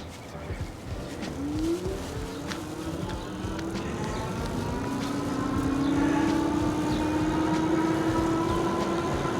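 Electric Bike Company Model X e-bike running on throttle alone, a motor whine rising steadily in pitch as it speeds up, with wind and road rumble underneath and no talk.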